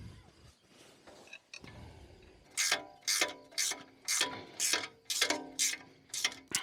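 A ratchet wrench tightens an engine guard bolt on a Royal Enfield Himalayan motorcycle, giving close, crisp repeated ratcheting bursts in a steady rhythm of about ten strokes after some quieter handling noises.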